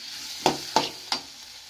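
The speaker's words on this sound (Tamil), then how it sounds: "இப்போ தக்காளி போட்டுக்கலாம், இதை இது ரெண்டுமே நல்லா" Tomato with ginger garlic paste being sautéed in a pan for a cauliflower peas masala: three brief close stirring scrapes with a low sizzle between them, no talk.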